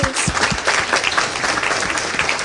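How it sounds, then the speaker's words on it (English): Audience applause for students at a university talk by the US Ambassador to Poland, a steady dense clapping from a full room that holds evenly throughout. "give you a round of applause"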